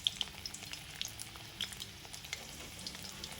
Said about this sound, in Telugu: ఇవి ఆయిల్లో కొద్దిగా ఇలా ఫ్రై చేసుకోండి.